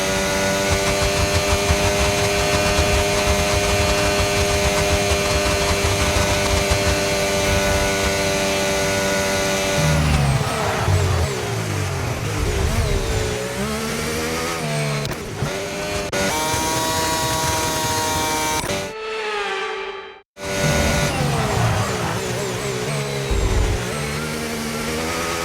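Race cars on the final lap of a racing video game, a steady high whining engine drone that shifts pitch with gear changes and passing cars, briefly cutting out near the end, with no talk.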